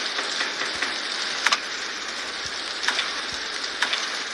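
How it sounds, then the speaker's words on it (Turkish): Steady rain hiss in the Roblox game Doors fills the scene, with a few sharp drop-like ticks scattered through it and no voices. "Yağmur yağıyor etrafta."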